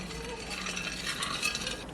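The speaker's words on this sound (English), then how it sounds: "mix this with 1 tablespoon of flour" Frozen blueberries being stirred with a tablespoon of flour in a baking container, a steady soft scraping and rustling close by with no talk.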